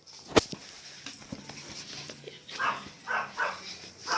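A dog makes a few soft, short vocal sounds and whimpers near the listener, with a sharp knock early and faint room noise.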